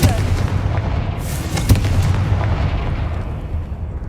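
Confringo blasting spells explode in Hogwarts Legacy, a dense, loud run of booming blasts with a sharp crack near the middle over constant low rumble.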